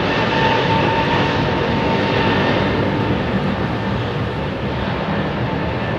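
A Boeing 747 freighter powered by Rolls-Royce RB211 engines departs, its broad, steady engine roar holding loud and constant from start to finish with no break.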